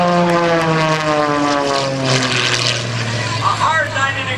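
Aerobatic propeller airplane engine at an air show, a loud sustained droning roar with shifting harmonic pitch as the engine power comes back in, close and steady throughout.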